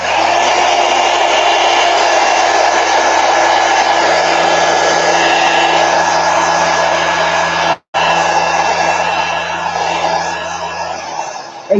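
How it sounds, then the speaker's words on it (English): Loud, steady whir of a hair dryer held close while it dries Neocolor II crayon artwork in a journal. It runs continuously, cuts out for a moment, then resumes. "Oh, I'm going to dry it first."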